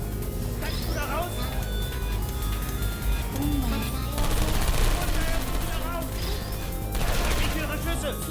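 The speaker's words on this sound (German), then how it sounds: "Ich höre Schüsse." Gunfire rattles in bursts inside the game Portal 2, set against a dense, noisy mix of game sounds and music, with a person speaking.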